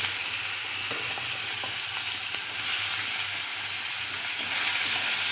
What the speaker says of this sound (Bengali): ফোড়নটা এসে গেছে, এবার দেব পেঁয়াজ কুচিটা